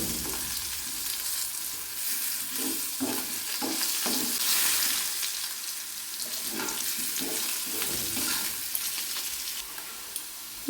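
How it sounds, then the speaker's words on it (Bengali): Potatoes fry with turmeric and salt in a pan, giving a steady, close sizzling hiss with the intermittent scrape of stirring underneath. "একটু হলুদ, একটু লবণ দিয়ে এবার আলুগুলোকে সুন্দর করে ভাজতে হবে।"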